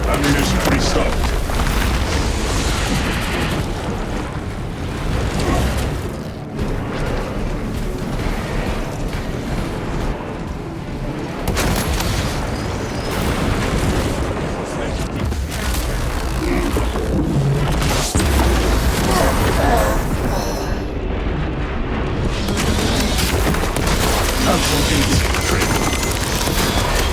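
Melta bomb blast in Warhammer 40k: Space Marine, a dense, sustained roaring rumble of explosive fire and battle noise filling the clip, loud and continuous, with a brief gap midway.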